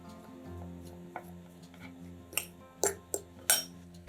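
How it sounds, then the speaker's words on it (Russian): A fork mashes boiled egg yolks in a kitchen, giving a few quiet scattered clinks and scrapes against the dish over a low background hum. "Подготовленные желтки разминаем вилкой."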